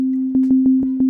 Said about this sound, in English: Trusty little sine wave.